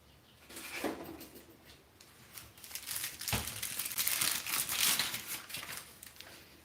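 Parchment paper crinkling and rustling up close, in irregular soft bursts that build to a louder crumple before easing off, with no talking.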